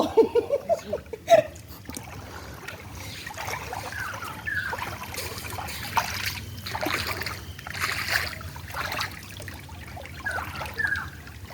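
Water is splashed and stirred up in shallow, muddy water, with a few sharp splashes at first, then softer trickling and sloshing under distant voices.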